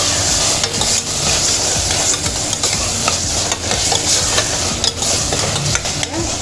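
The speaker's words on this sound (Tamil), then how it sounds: "இப்போ கட் பண்ணி வச்சுருக்கிறோம் இந்த தக்காளியை சேர்த்துக்குவோம். சேர்த்து இதையும் நல்லா கிண்டி விட்டுருவோம்." Chopped tomatoes sauté in a pan of mutton kothukari, a loud, close, continuous sizzle broken by repeated scraping stirs of a spoon against the metal.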